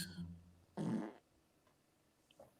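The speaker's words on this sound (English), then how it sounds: "Was that a fart?" A short, low, raspy fart sounds once up close, preceded by a brief voiced noise and followed by near silence.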